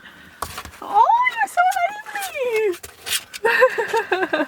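A mini dachshund puppy gives high, rising and falling whimpers and squeaky whines at close range, mixed with excited people talking and cooing over it.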